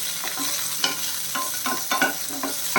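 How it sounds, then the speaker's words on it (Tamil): Raisins frying in ghee sizzle softly in a pan while a spoon stirs them, giving rhythmic scraping strokes roughly every half second over a gentle, steady hiss. "இது வந்து இந்த நெய்யிலே வறுத்தோம்னா"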